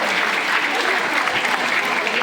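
Steady, dense applause fills a jubilee celebration at a school as a teacher is called up, a continuous wash of many hands clapping throughout the short stretch.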